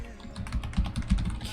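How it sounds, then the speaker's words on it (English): Rapid clicking keystrokes on a computer keyboard, a brief close burst of irregular taps with a few heavier key hits, no voice over it. "What am I typing?"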